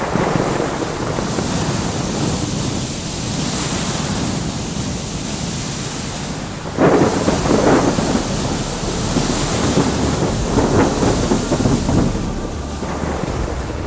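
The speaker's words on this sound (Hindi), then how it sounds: "धीरे धीरे तूफान और तेज होता जाता है" A thunderstorm with heavy rain gives a loud, continuous roar of downpour and wind. A heavier burst of thunder crashes in partway through, and the storm stays dense and unbroken throughout.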